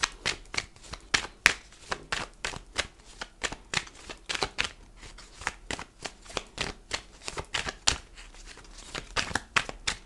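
Tarot cards are shuffled for a cross spread, a steady run of crisp riffling and slapping card sounds repeating close to the mic for the full stretch, with no talking over them.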